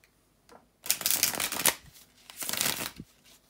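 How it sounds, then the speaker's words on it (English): A deck of tarot cards is shuffled up close in two quick riffling bursts, crisp and papery, with short pauses and soft handling between them and no speech. "just bear with me a couple of seconds, guys, to shuffle the tarot cards"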